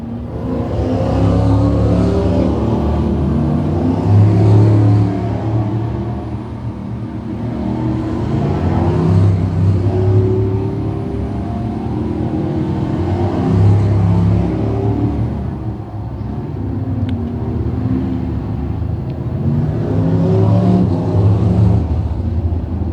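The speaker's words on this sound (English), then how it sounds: "That is your starting lineup for heat race number 2 of 2 for the Panther Frameworks Crate Sprint Cars." Crate sprint cars roar around a speedway oval in a heat race, engines rising and falling in repeated loud waves as the pack passes, with a continuous dense rumble and no voices.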